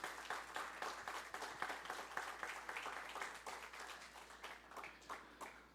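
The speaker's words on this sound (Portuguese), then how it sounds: "Vamos aplaudir Jesus." Church congregation clapping at a Christmas service, faint and distant but plainly rhythmic, with regular unison beats and a low steady hum underneath.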